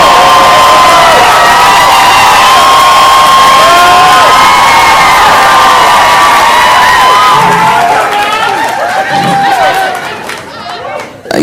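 A stand-up comedy audience claps and cheers loudly for comedian Josh Johnson, with whoops and shouts over a steady roar that tapers off near the end.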